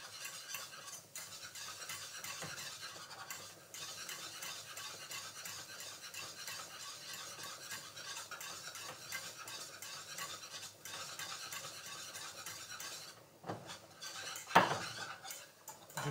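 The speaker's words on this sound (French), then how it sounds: "Le beurre est en train de fondre. Il est en train de se mélanger à la farine." A utensil scrapes and stirs melting butter and flour into a roux in a pan, a steady quiet swishing and clinking that continues without pause, with a couple of louder knocks near the end.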